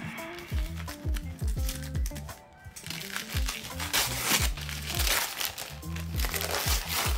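Wrapping paper crinkles and tears as a thickly wrapped book is opened, loud close rustling and crunching that goes on throughout over steady, rhythmic background music.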